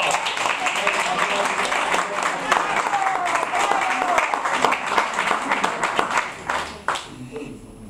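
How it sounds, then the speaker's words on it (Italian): A room of listeners applauds at a formal Italian cultural ceremony where a medal and plaque are presented. The clapping is dense and lively, with faint crowd murmur underneath, then thins and fades in the final seconds. "A questo un applauso."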